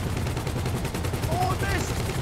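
Gunfire in the GTA video game, a weapon launched at a locked-on target, rattles as a steady dense run of repeated shots through the whole stretch, with a faint voice underneath.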